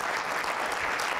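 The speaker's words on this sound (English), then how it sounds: "we should all give Beth Schenk some round of applause here" Audience applause for conference organizer Beth Schenk, a steady dense wash of clapping filling the whole short moment without a break.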